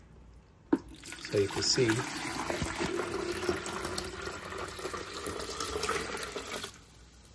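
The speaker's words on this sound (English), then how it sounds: "And now I'm gonna pour this water." Filtered water from a countertop reverse-osmosis unit with UV pours into a one-gallon pot in a kitchen, a steady splashing stream running about six seconds and stopping abruptly, with a voice speaking briefly at the start.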